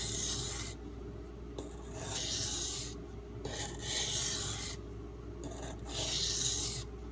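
A knife blade rubs back and forth on a Norton water stone while a burr is worked off, giving several long, even gritty strokes close up with brief pauses between them.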